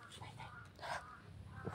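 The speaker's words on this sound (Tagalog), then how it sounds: "May uwak bay. Uwak to." A single crow caws faintly in the distance over a quiet, low background hum.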